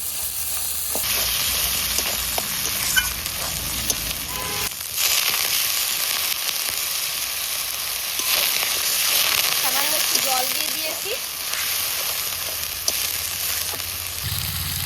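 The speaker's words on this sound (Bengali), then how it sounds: "সব মশলা তো ভালো করে কষিয়ে নিয়েছি দেখুন তেলও ছেড়ে দিয়েছে" Coriander and cumin spice paste frying in oil, a strong continuous sizzle with stirring scrapes and spatula knocks throughout, up close, with a brief pause and a shift in the sizzle partway through.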